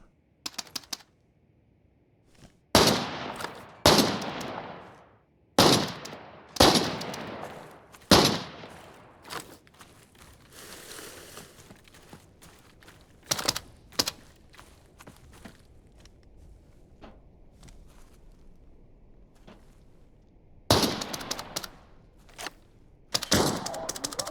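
Gunfire from a fight in the shooter game Arena Breakout Infinite: loud, sharp shots and short bursts come in irregular clusters, some echoing, with quieter footsteps and clicks in the gaps and no talking.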